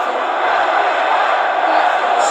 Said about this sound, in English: Jacob Fatu just throwing heads at LA Knight as the crowd's coming alive here.